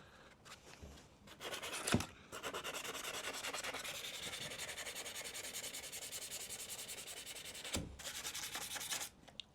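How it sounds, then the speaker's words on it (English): Sandpaper rubs back and forth over a rusted axe head, making a sustained, close, gritty scraping that runs for several seconds with brief pauses and soft knocks at the start and near the end. "So we'll try and take the sandpaper back to it."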